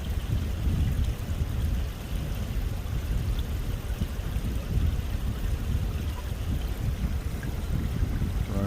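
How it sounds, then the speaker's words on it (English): A small decorative waterfall splashes into a large 35,000-gallon koi pond, making a continuous low rushing and trickling wash of water that stays steady and fairly soft, with no voices. "So now the waterfall is on"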